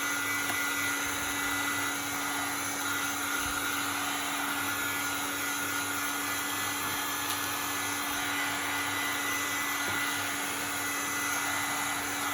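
A heat gun blows steadily nearby, drying Mod Podge on a jar lid in a craft project, giving an even whooshing whine with a constant fan hum throughout.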